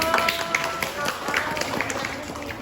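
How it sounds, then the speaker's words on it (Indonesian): Theatre actors receive applause from a small audience, scattered close hand claps that run steadily for a couple of seconds with voices chattering underneath. "Beri tepuk tangannya sekali lagi dong"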